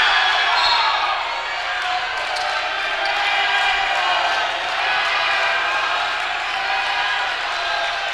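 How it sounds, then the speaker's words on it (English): Home basketball crowd at a boys 5A high school game, Central at Wilsonville, roaring and chanting after a missed shot, a dense sustained wall of many voices filling the gym with steady loudness throughout. "The crowd chants air ball after a miss by Jack Roach"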